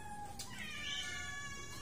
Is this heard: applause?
no